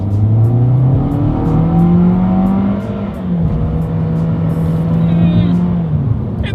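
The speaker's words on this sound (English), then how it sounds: "let's do a quick little acceleration test here, and let's see how quickly we can get the new 2021 Corolla here up to speed" A 2021 Toyota Corolla compact car accelerates hard on a straightaway, its engine note climbing steadily through the gears with a brief dip at a shift, loud and close throughout.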